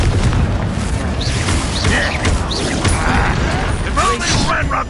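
Confringo fire spell blasts from Hogwarts Legacy combat, a dense run of booming bursts and clattering mechanical impacts layered with game music and effects, loud and continuous throughout, with a voice speaking over the action.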